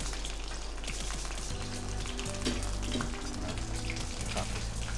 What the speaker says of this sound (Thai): ทอดไปเรื่อยๆนะ